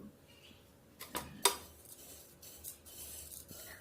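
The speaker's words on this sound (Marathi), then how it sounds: "ग्रीन बुंदी मी यामध्ये टाकून घेतली आहे आणि पिंक कलरची जी बुंदी केलेली होती तीसुद्धा यामध्ये मिक्स करून घेत आहे" Green and pink fried boondi being mixed together in a vessel for motichoor laddu, with a few sharp utensil clinks and scraping knocks against the pan amid quiet rustling.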